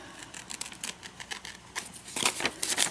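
Rapid snipping of scissors cutting through paper, a series of crisp close clicks and swishes growing louder toward the end.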